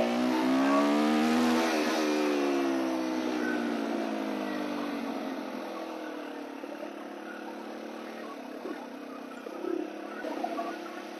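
Daelim Roadwin 125 motorcycle revved hard for a wheelie, its engine note climbing and then holding a loud sustained roar that slowly drops and fades as the bike moves away, with small blips near the end.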